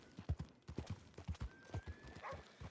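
Horse hooves clip-clopping along a road in a western roleplay game, a steady uneven trot of close, distinct hoofbeats with a faint brief whinny partway through.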